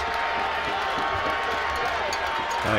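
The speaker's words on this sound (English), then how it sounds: "the Salem crowd across the way now making plenty of noise" A Salem crowd roars steadily at a 2017 high school football regional final game, a dense, continuous wash of noise from across the stadium, with a commentator's voice running over it.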